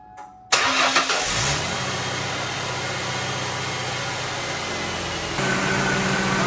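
A Ford Mustang engine cranks and catches, then settles into a steady loud idle that holds, with a slight rise in level near the end; no voices.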